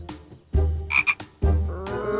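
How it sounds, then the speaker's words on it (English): Cartoon frog croaks in a few short, loud bursts with brief pauses between them, heard alone with no talking. "I love frogs."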